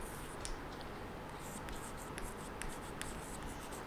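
Pen or marker strokes on a board during an accounts lesson: a series of short scratchy strokes at a steady, uneven pace under a faint hiss of room noise, with no talking.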